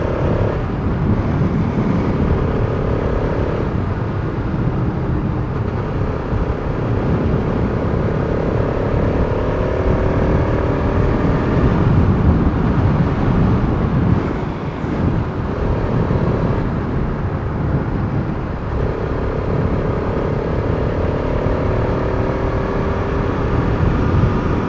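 A Bajaj Pulsar RS200 motorcycle on a morning ride along an open road, its engine droning loudly and steadily throughout with rising and falling revs as it changes gear. Wind rush is mixed in, and there is no talk.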